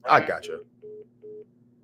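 A phone call dropping mid-conversation: someone speaks briefly, then two short, steady beeps of the disconnect tone follow, evenly spaced and clear.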